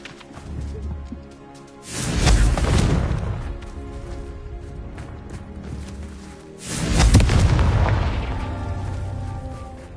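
Two heavy booming blasts from the Confringo fire spell in the Hogwarts Legacy video game, each a loud burst that rolls out into a long rumbling tail, the second arriving several seconds after the first over low ambient game sound.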